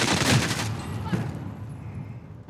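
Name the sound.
gunfire in an Xbox Series X video game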